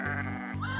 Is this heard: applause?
no